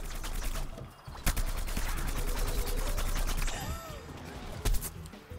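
Gunfire from Plants vs Zombies Garden Warfare fills a busy co-op match, a dense continuous barrage with a couple of sharper, louder shots standing out above the steady game noise.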